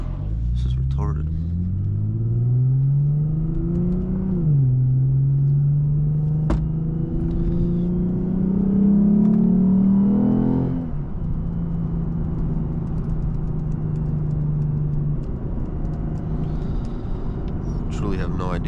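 Tuned Lexus IS350 with full bolt-ons, engine revving hard and low through rising and falling pulls, a loud throaty drone under a talking driver.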